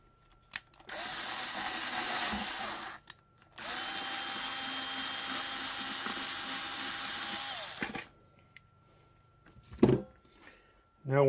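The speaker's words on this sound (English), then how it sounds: "and drill down through the cup." A power drill bores through the cup of an RC crawler chassis in two sustained bursts, a loud steady whine with a brief pause between them, followed by a few small clicks and handling knocks.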